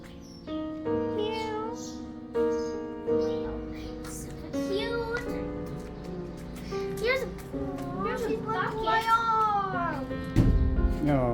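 A temple cat meows repeatedly, close and clear, with rising and falling cries mixed among children's voices talking nearby.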